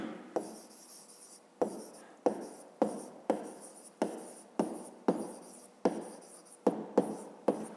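Pen strokes scratching out a math answer on paper, a steady run of about fourteen short rhythmic scribbles, each with a sharp onset, close and fairly quiet with no talking.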